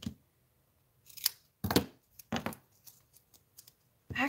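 Scissors snip through card stock while making a Christmas shaker card, a handful of crisp, close cuts in uneven bursts with short quiet gaps between them.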